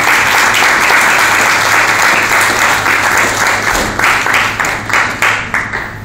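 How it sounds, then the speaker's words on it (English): Audience applause at a speaking event, sustained loud clapping from a large crowd that gradually thins into scattered individual claps near the end. "I want each and every one of you to give yourselves a round of applause"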